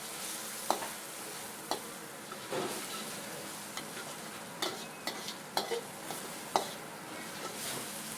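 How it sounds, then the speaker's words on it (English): Chilies and shrimp paste fry over low to moderate heat while being turned in a pan, a soft steady sizzle broken by occasional light scrapes and taps of the utensil. "continue cooking over low to moderate heat, turning it over so that it cooks evenly"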